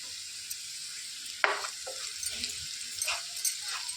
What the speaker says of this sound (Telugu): ఇందులోనికి కట్ చేసి పెట్టుకున్న ఉల్లిపాయలు వేసేసుకొని వేయించుకోవాలి.